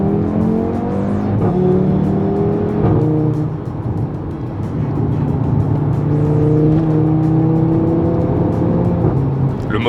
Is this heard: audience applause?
no